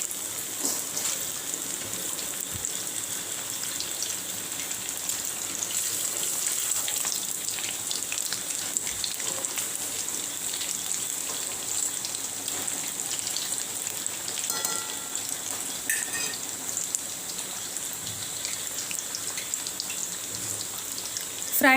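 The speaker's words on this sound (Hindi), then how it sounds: "फ्राई करने में हमें 5 से 7 मिनट लगेगी।" Chicken pieces frying in a pan for chicken dana, a continuous close crackling sizzle with scattered pops and spits of oil, steady throughout with a few faint utensil touches.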